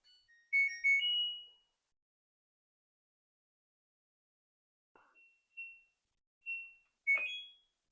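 An LG washing machine plays a short power-on melody of beeping tones, then a pause, followed by a few more high chime notes, clear and moderately quiet.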